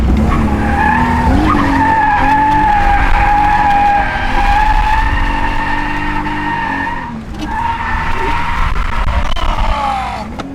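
BMW E46 drifts with a long, loud tire squeal over a straining engine, the screech holding steady, dipping briefly, then resuming with rising pitch; faint shouts mix in under it.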